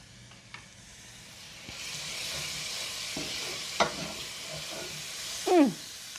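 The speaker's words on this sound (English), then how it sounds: "We're just going to let all of this go together and saute up for just a minute." Sun-dried tomatoes sauté in a hot pan for a Tuscan shrimp pasta, giving a steady close sizzle with a few light scrapes of stirring and no talking.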